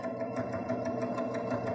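A Baby Lock Jazz II sewing machine runs a straight stitch along a pressed fabric hem, giving a steady, fast, even mechanical whir that stays close and moderately quiet without a break.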